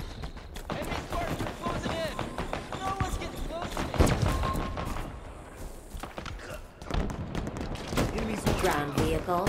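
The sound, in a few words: gunfire from the video game Halo Infinite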